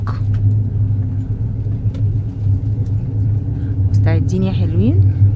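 Aircraft engines drone in a low, steady rumble inside the cabin of a plane waiting to take off on an Egypt–Saudi Arabia flight, close and constant, with a voice briefly speaking near the end.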